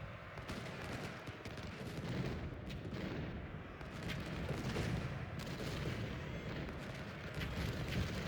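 Dense, rumbling battlefield din of Civil War cannon fire in Ultimate General: Civil War, continuous booms blending with distant musketry into a heavy, sustained roar with no speech.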